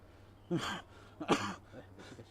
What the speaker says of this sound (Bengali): কাশিটা কোনোভাবে যাচ্ছে না